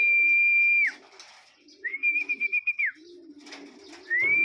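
A racing pigeon arriving home calls with steady, high whistled notes that come and go, mixed with brief flutters and tapping sounds nearby.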